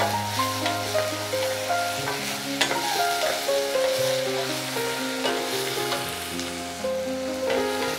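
Onion, chopped tomato and slit green chillies sautéing in a pan, a steady soft sizzle with stirring scrapes throughout, under quiet background music.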